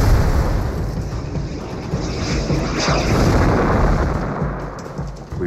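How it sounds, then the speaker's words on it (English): A heavy, rumbling explosion from a tank battle at the Hochwald Gap roars with dense low-end noise that swells and slowly fades, sustained and loud throughout. "and again the explosion"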